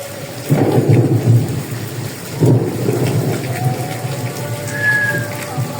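Two deep thunder booms crack and rumble one after another amid heavy rain in Faisalabad, loud and close over a steady hiss of falling drops.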